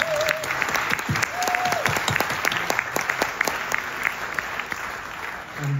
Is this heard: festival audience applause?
yes